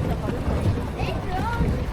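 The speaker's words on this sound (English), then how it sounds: "This is the speedboat of Koh Lipe that will be taking me now to Pakpara." A speedboat leaving Koh Lipe island in Thailand, its engine a constant low rumble mixed with rushing wind and water noise, loud and close throughout the short stretch.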